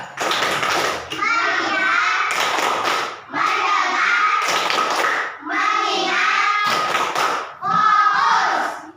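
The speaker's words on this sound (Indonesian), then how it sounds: "Kita mulai dengan tepuk fokus." A classroom of children performs a rhythmic focus clap routine, groups of claps and chanting voices coming in repeated bursts with short pauses between them, close and loud.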